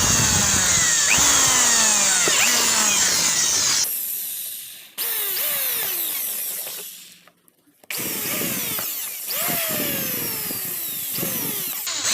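A power drill whines loudly, its pitch sweeping down as it bites in, repeated in three long bursts with brief pauses between them.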